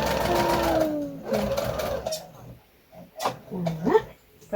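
A sewing machine stitches a foundation paper pieced Christmas star in short bursts, each run rising in pitch and then stopping, with brief pauses between runs and someone talking over and between them.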